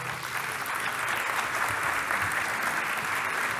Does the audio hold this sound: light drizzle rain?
no